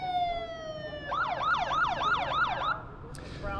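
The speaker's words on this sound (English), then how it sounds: "that is the siren." Demolition warning siren outside El Paso City Hall, a steady tone that shifts into a rapid wailing sweep for a couple of seconds, loud and fairly close over outdoor background noise.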